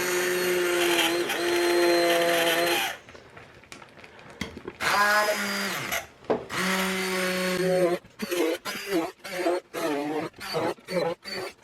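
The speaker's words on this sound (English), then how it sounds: "So I'm going to take the immersion blender to it" Immersion blender whirring through cooked apples for applesauce, a loud sustained motor whine that runs for a few seconds, returns after a pause, then breaks into a series of short choppy bursts.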